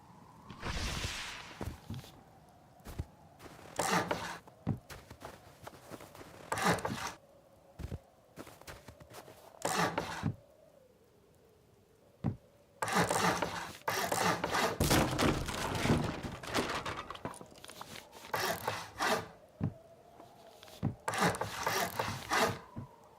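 Hammer upgrading a building in the video game Rust, with long stretches of dense, rasping construction noise broken by short pauses, loud and repeated over a low steady hum.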